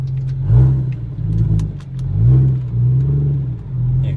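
A BMW 335xi with an N54 engine and a big single-turbo conversion runs up close in a steady low drone, rising and falling gently as it revs on a first drive.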